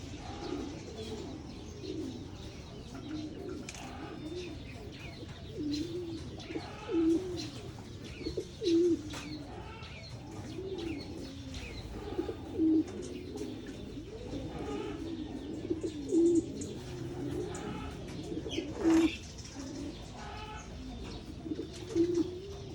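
Pigeons coo repeatedly in a loft kept for Japanese bird-line pigeons, the low rolling calls recurring steadily over a constant murmur of background noise, with occasional faint chirps and no one speaking.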